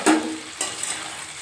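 Paneer cubes frying in an oil-filled pan in a home kitchen, giving a steady close sizzle with a brief louder burst at the start and another surge partway through, with no voices.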